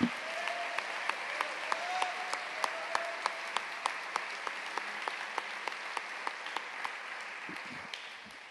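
A church congregation applauding, dense steady clapping with sharp rhythmic beats running throughout and fading out near the end.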